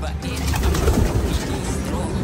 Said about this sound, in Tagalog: Ayan yung mga kalapati natin, no?